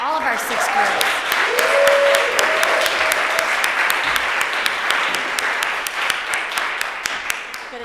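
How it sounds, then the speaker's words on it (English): A conference audience at a leadership forum's pitch competition claps steadily for nearly eight seconds, dense and close, with some talking mixed in near the start. "So I think we need another collective round of applause for all of our 6 girls."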